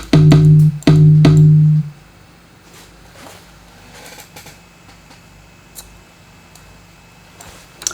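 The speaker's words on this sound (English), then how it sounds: "A tom drum from the same pack." A tom drum sample from a drum sample pack hits twice in quick succession, two loud booming low-pitched thumps near the start, then fades to quiet room noise with faint clicks.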